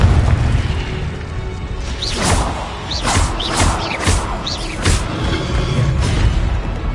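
Spell blasts and magical bursts from the PS4 game Hogwarts Legacy: a rapid series of sharp booms and swooshing pops, about half a dozen hits spaced a second or so apart, over a steady rumbling game background.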